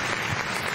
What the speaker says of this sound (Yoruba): ẹ jẹ́ pàtẹ́wọ́ fún gómìnà Bíọ́dún Àbáyọ̀mí Oyèbánjí